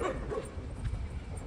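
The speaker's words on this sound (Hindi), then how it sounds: "और ये कुत्ते और भौंक रहे हैं रात में," Dogs barking at night along a dark street: a few yips and bow-wow barks at moderate distance over a low, rumbling background, with an occasional whimpering note.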